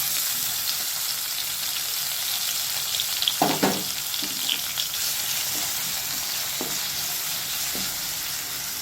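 Chopped tomatoes fry in oil for a bottle gourd chutney, a steady close sizzling hiss with a few soft scraping stirs partway through and no speech.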